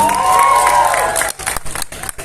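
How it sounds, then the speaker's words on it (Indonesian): Audience at a gala premiere of a horror film cheers and applauds under a loud musical sting, the crowd noise continuing alone afterward in a large, reverberant hall. "kita sambut dan kita berikan tepuk tangan untuk kreator film pendek Makmum, Riza Pahlevi."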